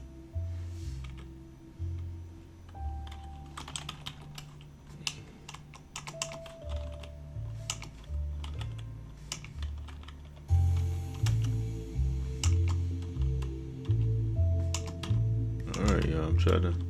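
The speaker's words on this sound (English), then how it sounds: "trying to type without looking at the keys" Computer keyboard typing at a picnic table, fast irregular clicking of keys running steadily under background music and voices.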